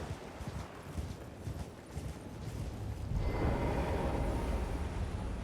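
Hooves of a ridden horse in the video game Elden Ring clop in a quick rhythmic gallop, growing louder and busier after a few seconds under a rumbling in-game ambience.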